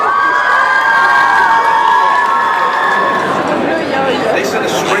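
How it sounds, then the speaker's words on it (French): A crowd at a manga convention cosplay contest cheers and claps loudly, with shrill shouts and whoops riding over continuous applause and chatter. "N'hésitez pas à les applaudir."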